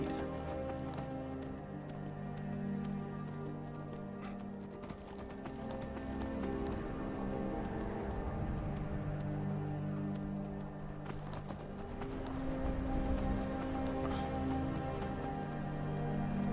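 A horse gallops in the video game Skyrim, with steady, repeating hoofbeats under a constant bed of game ambience and tonal music, at a moderate, even level throughout.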